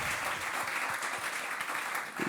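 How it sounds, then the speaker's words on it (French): An audience at a book fair meeting applauds a speaker with a short burst of steady, even clapping that sounds somewhat distant and soft. "Vous pouvez applaudir Gérard d'ailleurs"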